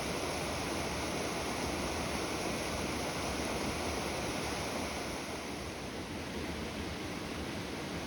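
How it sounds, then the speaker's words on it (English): Steady rushing water flows without pause, broad and continuous, with a soft airy breeze blended in. "with the sound of the water and the breeze among the trees"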